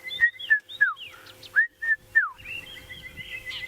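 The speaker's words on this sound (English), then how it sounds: "I can hear a red-chested cuckoo going." A red-chested cuckoo calls in the African bush at sunset, a run of clear, rising and falling whistled notes repeated in quick succession, fairly close, with softer bird chatter and background ambience continuing after.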